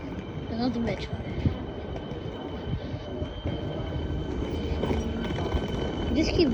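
A Melbourne metro train rumbles steadily at a station, a continuous low rolling drone with faint squeals and clanks, while someone talks over it.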